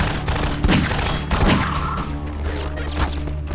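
Gunfire in Half-Life 2 cracks out in several sharp, loud shots with spaced bursts, over a steady background of game noise.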